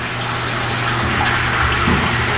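Water gushes steadily and loudly during backwash of a 1.5 HP Grundfos CM3-5 pump, a constant rushing flow with a low pump hum beneath, no voices.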